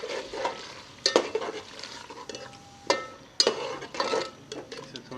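Yogurt is stirred into mutton tripe in a pot, with soft scraping and wet mixing sounds and several sharp clinks of a spoon against the pot over a quiet background.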